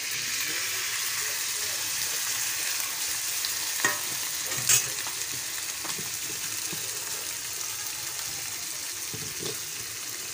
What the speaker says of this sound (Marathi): हे थोडं ते चटणीचं पाणी उरलेलं ना ते वरनं असे टाकते